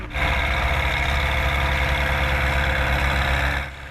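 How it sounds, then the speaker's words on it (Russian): Tractors sowing oats across a large farm field run at a steady, loud engine drone, with a close, continuous rumble that holds level before easing off at the end. "Выстроившись в ряд, трактористы засеивают почву овсом."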